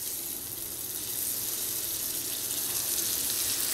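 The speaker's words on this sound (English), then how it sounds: "Listen to that sizzle." A homemade burger patty searing in a hot cast iron skillet, giving a steady, loud, close hiss of sizzling that holds without a break and with no talk.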